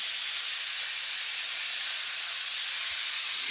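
Steak strips for pepper steak sizzle in a hot pan, giving a steady, bright, hissing crackle that holds evenly throughout at close range, with no talking over it.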